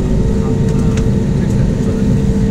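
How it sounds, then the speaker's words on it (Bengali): A passenger airliner's engines hum at a loud, steady low roar while the plane prepares for takeoff at Kaltar Airport, heard from inside the cabin. "বিমানটি আকাশে ওড়ার জন্য প্রস্তুতি নিচ্ছে।"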